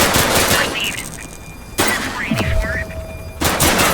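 Gunfire in the police video game The Precinct, with a few loud sharp bursts of shots separated by pauses, mixed with game effects and speech.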